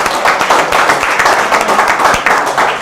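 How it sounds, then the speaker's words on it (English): A crowd claps continuously, dense overlapping applause filling the room at a steady, fairly loud level. "big round of applause"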